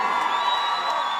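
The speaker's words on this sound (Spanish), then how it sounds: "Aplauso suyo para la gente de Cuba." Concert crowd in Cuba cheering and whooping in a steady, dense wash of voices, loud and continuous without distinct clapping.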